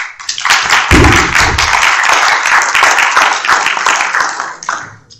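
Audience applause at a county candidate forum, a dense wash of many hands clapping that swells and holds steady for several seconds before thinning out near the end.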